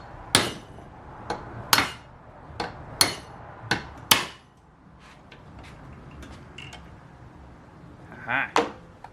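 A hammer whacking a punch set in a drilled pilot hole during a Golf Mk1 2.0L 8v engine build, about seven sharp metallic strikes at an irregular, steady pace, followed by a quieter stretch and a faint clatter.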